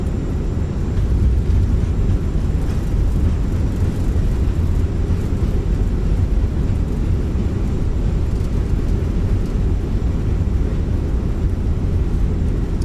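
Steady, loud low-pitched engine and airframe rumble of an Air France A320 rolling out after landing in Microsoft Flight Simulator, a continuous drone with no voices.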